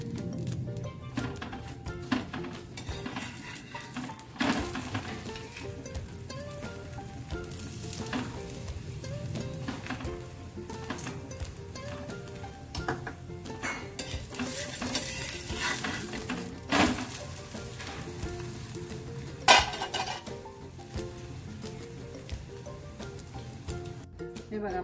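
High-protein soybean paratha frying in ghee on a pan, a steady close sizzle running throughout with scattered clicks and scrapes from turning and handling, and faint voices in places.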